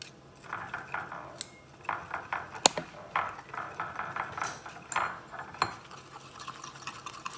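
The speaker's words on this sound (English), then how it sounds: "Use my little whisk." A small whisk stirs coffee caramel sauce in a pot, quick light metallic clinks and scraping taps against the pot sides in an uneven rhythm, close and fairly quiet with no talk.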